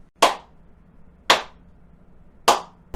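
Three sharp, loud hand claps spaced roughly a second apart, each a single crisp slap of palms with a short decay into near silence.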